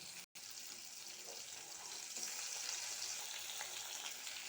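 Tangra fish fry in oil in a pan over a low gas flame, giving a soft, steady sizzle that holds throughout, broken only by a brief dropout near the start.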